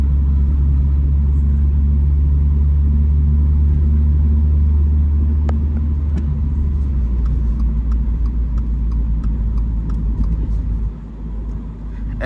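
A 2024 Toyota GR86 with an automatic gearbox drones with a steady low engine rumble from inside the cabin while driving, the pitch shifting partway through as it changes gear and then easing off near the end.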